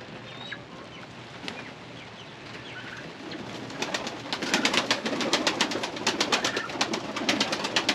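A young farmyard bird, likely a chick or pullet among the flock, calls in a turkey-like way after rainy days, faint chirps at first, then a run of louder rapid clucking calls close by.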